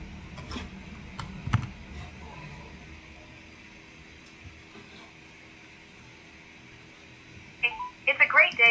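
Phone call placed on speakerphone to John's Gym in Georgetown: faint, steady ringback tone through the middle with a few quiet clicks, talk at the start, and a louder burst of recorded greeting near the end.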